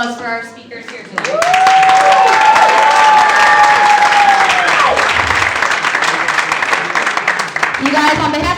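At a college TEDx event, a voice speaks briefly before a large audience breaks into loud continuous applause with a cheer, the clapping running steadily to the end as speech resumes faintly.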